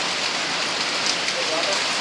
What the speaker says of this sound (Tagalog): Sukeng ulan gid ay.